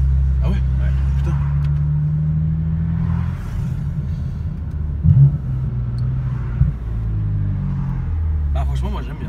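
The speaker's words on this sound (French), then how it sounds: "oui, c'est le V8. Moteur de la RS6." Rumbling V8 engine of an Audi RS6, a steady low idle held close by with a couple of brief throttle blips, while people talk over it.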